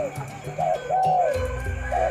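A spotted dove of the derkuku kol buntet type coos in soft, rounded phrases, repeating a few times at close range over a low background hum.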